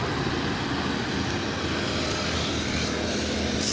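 A New Holland 3630 tractor with a 50 HP, 2991 cc engine runs steadily at close range, a loud, unbroken rumbling drone with constant roar and no pauses.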